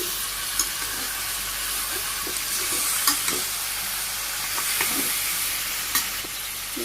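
Chicken curry sizzles and fries steadily in a pan while being stirred, with scattered clicks and scrapes of the spoon over a continuous hiss, close and moderately loud, no talking.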